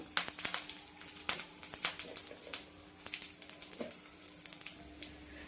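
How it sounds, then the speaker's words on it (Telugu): Crushed garlic, dried red chillies and curry leaves crackle and sizzle in a small tempering pan for gongura chutney, a continuous close frying hiss with scattered sharp pops and no talking. "ఒక నిమిషం పాటు వేగనిద్దాము."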